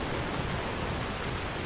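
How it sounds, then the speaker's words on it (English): Steady, dense rain in the fantasy video game Enderal: Shards of Order, a broad even hiss that stays close and unchanging, with no voices over it. "The rain sounds so good in this game."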